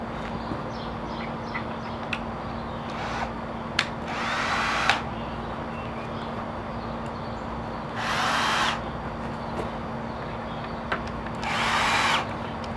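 A power drill drives screws into the side supports of a triangular garden trellis, running in three short bursts of a few seconds each, with quiet pauses and a steady low hum in between.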